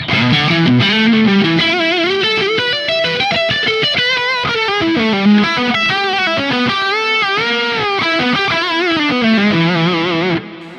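A distorted electric guitar played through a Laney amp set to its middle voicing, with a boost engaged, rings out in a loud, dense run of sustained chords and melodic lines, steady throughout and ending abruptly.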